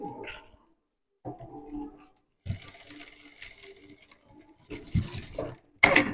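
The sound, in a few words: sewing machine stitching the edge of a zipper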